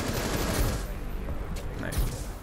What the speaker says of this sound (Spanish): Me han pegado tiros por todos lados